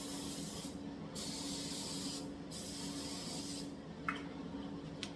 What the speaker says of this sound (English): Now I spray cooking spray on the top.